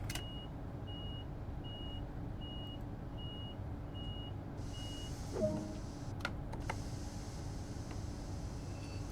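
A Talent 2 electric multiple unit's door-locking warning in the Train Sim World 2 simulator: a steady series of evenly spaced electronic beeps over a low cab hum. The beeps stop midway and a few soft clicks follow.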